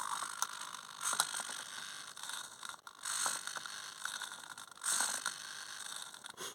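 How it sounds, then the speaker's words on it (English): A small servo motor whirs in short bursts as it drives the jaws of a robot hand claw open, close by, with faint mechanical clicking and no talk. "the motor can open the jaws"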